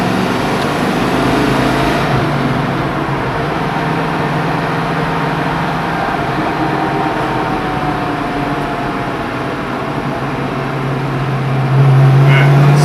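A 1970 Ford Mustang Boss 302 with a posi rear and 3.50 gears pulls away on the road in a steady, loud engine-and-road drone heard from inside the car, which rises in pitch and strength near the end.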